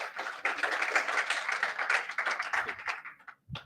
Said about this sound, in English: let's give a round of applause for Rudy.